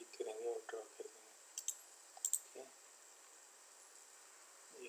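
Computer mouse clicks while drawing flex duct in Revit MEP software, a few faint sharp clicks scattered over quiet room tone, with soft speech fragments.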